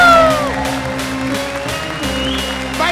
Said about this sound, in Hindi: तुम भी ताली बजाओ।